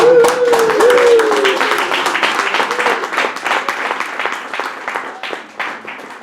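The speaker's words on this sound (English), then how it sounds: "I say applause for them." Lecture audience at a telemark skiing session applauds steadily, dense clapping holding strong then slowly thinning out, with a voice briefly audible at the start.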